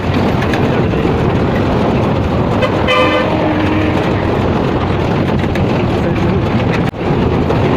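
A train travelling from Karachi, heard from inside with a loud, constant rumble and clatter and a brief whistle-like toot partway through, continuous throughout.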